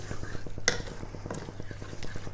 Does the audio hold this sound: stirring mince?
yes